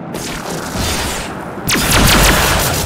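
Gunfire in a Star Trek video game: a loud, sustained roar of shooting, then a burst of sharp, overlapping shots that pushes louder still, with no voices.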